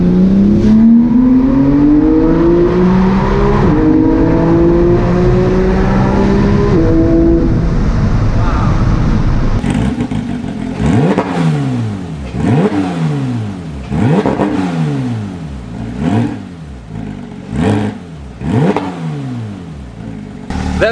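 A Porsche 991 GT3 with a muffler-deleted exhaust revs loudly, first sweeping smoothly up through the rev range, then barking through a series of sharp, rhythmic throttle blips, close and without talk.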